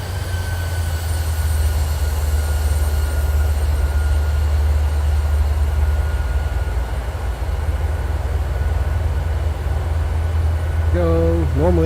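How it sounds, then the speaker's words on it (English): Jet engines of a PMDG 737-800 in Microsoft Flight Simulator, a loud, continuous low roar with a steady whine above it, unchanging throughout, with a brief wavering tone near the end. "Engines are making a lot of noise."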